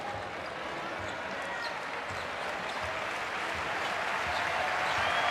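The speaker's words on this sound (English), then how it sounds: "There'll be applause here for Greece." Steady applause from the arena crowd at a FIBA U19 World Championship basketball quarter-final between Spain and Greece, a dense continuous clapping wash that holds level and swells slightly toward the end.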